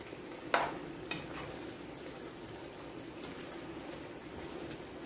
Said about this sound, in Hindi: कॉर्नफ्लोर डाल के इसको अच्छी तरह हिलाएंगे